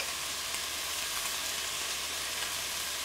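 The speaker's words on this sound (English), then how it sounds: "chicken's browning up beautifully. The sausage is in the pan" Chicken and sausage sizzle as they brown in a pan, a constant bright hiss of frying close up with no talk.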